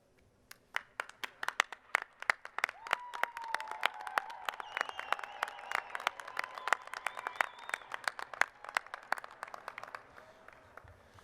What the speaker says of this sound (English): they told me not to clap it on the microphone, but I got excited